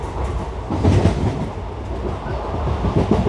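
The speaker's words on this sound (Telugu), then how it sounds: "ట్రైన్ స్పీడ్ మాత్రం 100 కిలోమీటర్లు అలా మెయింటైన్ చేస్తున్నాడు." A Tirupati Express passenger train from Guntur to Tirupati running at about 100 km/h, heard from inside the coach as a loud, continuous rumble with rhythmic wheel clatter and no talk.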